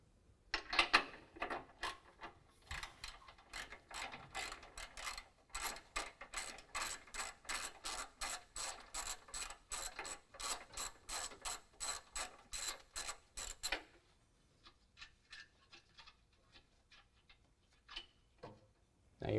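A hand ratchet loosening the two 13mm bolts holding an exhaust hanger bracket to the cross member of a 2019 Dodge Ram 1500, a long steady run of close, crisp clicks that stops, followed by a few scattered faint clicks.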